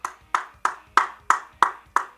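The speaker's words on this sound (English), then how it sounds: "Round of applause for Mai." Seven sharp, evenly spaced hand claps ring out one after another at a steady rhythm, close and fairly loud, honoring someone named Mai after a review segment.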